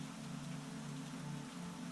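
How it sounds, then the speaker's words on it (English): Steady rain falls outside an open bedroom window, a dense, even hiss and patter that holds without pause, soft and constant with no voices. "so that he could continue to hear the steady drumming of the rain outside"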